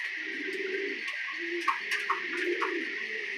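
Pigeons in a breeding loft cooing in soft, repeated low calls, with a few sharp chirps and wing or perch taps over a steady background hiss.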